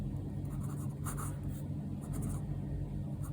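Chalk or marker strokes on a board during a maths lesson on linear equations, a few soft scratchy bursts over a steady low room hum, close but quiet, with no talk.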